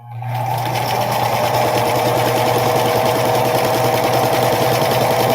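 A sewing machine stitching a quilt seam, running in a loud, steady, close mechanical whir with a fast regular rhythm that starts quickly and holds constant throughout.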